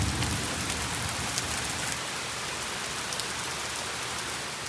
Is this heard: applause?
no